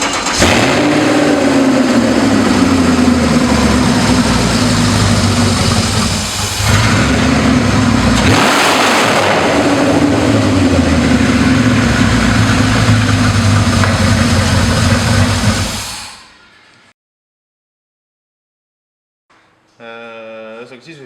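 A BMW E46 fitted with an M62 V8 and a red cone air filter revs and idles loudly up close, throttle rising and falling before cutting off, then a brief burst of talk at the end.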